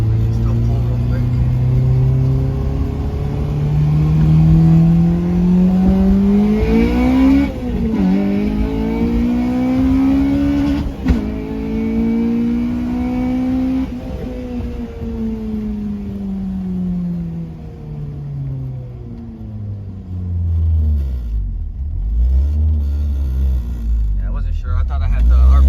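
A Mitsubishi Eclipse fitted with a Honda K20A2 engine, idling unevenly on an unfamiliar tune, revs up loudly several times with rising and falling engine pitch, close to the microphone, then drops back toward a rough idle.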